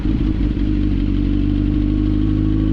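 Sportbike engine running as throttle is given, a loud, close, steady low rumble with a slight rise in pitch and no talk.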